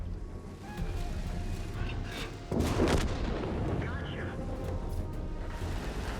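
In World of Tanks, a heavy tank cannon booms once, loud and close, above a steady engine rumble and distant battle noise, with someone narrating throughout.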